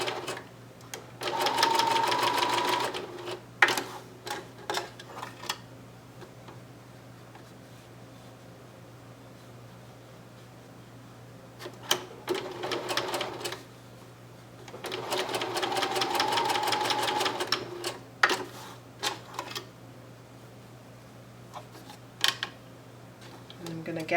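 A sewing machine runs a long gathering stitch on doll slouch boots, two sustained bursts of steady mechanical whirring separated by a pause with small clicks and handling sounds, close and moderately loud.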